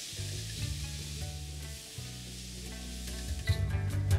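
Chopped onion fries in oil with ginger-garlic paste, a soft, steady sizzle close by with faint stirring scrapes and a low hum underneath, no voices over it.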